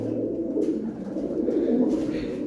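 Pigeons coo in a steady, overlapping low murmur close by, continuous throughout, with faint background noise and no clear speech.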